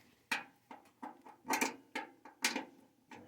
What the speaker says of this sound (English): Do you see what I'm unscrewing here?